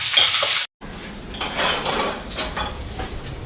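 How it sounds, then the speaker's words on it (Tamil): Dried chillies, curry leaves, garlic and onion sauté in a pan with a bright close sizzle and clinking spoon strokes against metal, broken by a brief silent gap. "செத்தல் மிளகாய், கருவேப்பிலை, உள்ளி, வெங்காயம், பச்சை மிளகாய். இதெல்லாம் வதங்கட்டுக்கும்."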